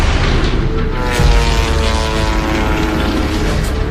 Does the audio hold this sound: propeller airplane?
yes